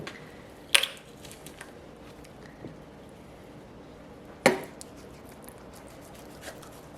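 A knife cuts through a whole chicken leg at the joint, giving two sharp cracking snaps a few seconds apart over faint, quiet handling noises.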